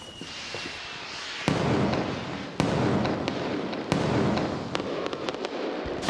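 Fireworks going off outdoors: sharp cracks and bangs burst out repeatedly over a continuous crackling, hissing fizz, with several loud reports spaced a second or so apart and quicker pops toward the end.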